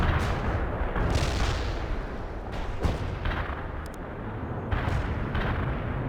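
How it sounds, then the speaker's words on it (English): Artillery barrage in the World in Conflict video game, with repeated heavy booming shell impacts and rumbling blasts rolling one after another, loud and dense, with no talking. "Artillery barrage inbound."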